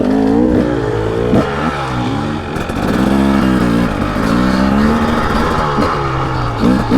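A 2023 KTM 300 XC two-stroke dirt bike is ridden hard nearby, the engine revving up and down repeatedly as it accelerates and backs off, loud and continuous with no talking.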